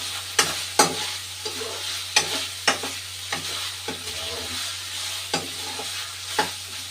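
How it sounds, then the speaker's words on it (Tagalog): Mixed vegetables fry in a pan with a constant sizzle, broken by sharp, regular scrapes and knocks of a utensil stirring them, close and without talk. "Ito po yung ating piniprito muna"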